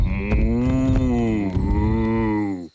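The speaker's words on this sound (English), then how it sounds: "to make room for the cows" A cartoon cow gives a long, loud, tonal moo that bends slightly in pitch over nearly three seconds, then cuts off abruptly, with no talk.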